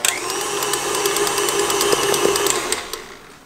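An electric mixer whirs steadily through banana bread batter, a continuous close motor whine with a slight rattle of the beaters, holding a constant speed before fading at the end; no talking.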